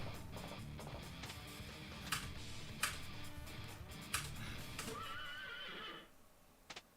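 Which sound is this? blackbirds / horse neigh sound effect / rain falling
horse neigh sound effect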